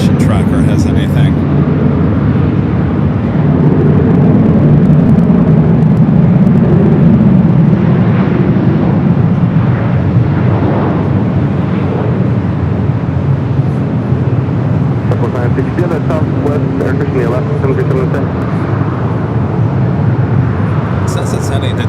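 An airplane at LAX airport lining up for takeoff, its low, steady jet rumble swelling broadly throughout, heard from a distance beneath continuous talking.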